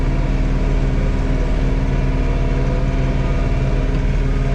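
A John Deere 3046R compact tractor engine runs steadily at about 2,300 RPM, a loud, constant low-pitched drone with dense harmonics and no talk.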